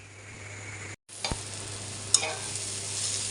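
Onions and chilies fry in a pan with a steady sizzle, broken by a brief gap and a few clinks of a spatula stirring them, with no talking.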